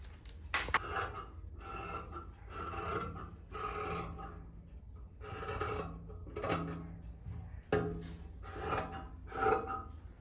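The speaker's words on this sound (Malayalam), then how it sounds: "ഇതൊന്ന് കട്ട് ചെയ്യാം കേട്ടോ." Scissors cut through kurti fabric in a series of about nine rasping strokes at a regular pace, close and fairly quiet, with short pauses between snips.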